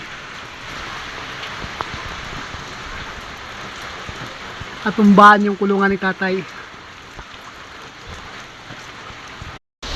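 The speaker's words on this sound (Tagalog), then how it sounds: "Napakalakas ng hangin at malakas ang ulan ngayon." Heavy morning rain with strong wind hisses in a constant wash throughout, as a person speaks briefly in the middle.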